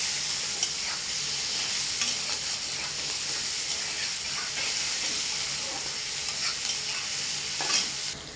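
Sliced green chillies and chopped onion fry in oil in a pan, giving a loud, continuous close sizzle while a utensil stirs and scrapes at intervals.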